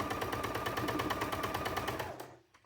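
Sewing machine stitching fabric for a cow-themed project, a rapid, evenly pulsing mechanical chatter of the needle running close and steady before stopping abruptly near the end.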